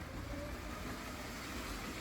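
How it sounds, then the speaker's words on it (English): Lego trains, including a large cargo train and a passenger train, running on the track layout of a big Lego city model, giving a steady low rumbling clatter throughout, fairly quiet and without talk. "I'll just run the trains, and we show you the trains running if we can"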